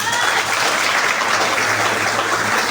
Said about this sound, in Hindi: तालियां बजानी पड़ेगी।